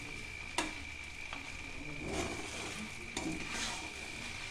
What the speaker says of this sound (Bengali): আমি সব দিয়ে এটাকে ভাজা ভাজা করে নিলাম।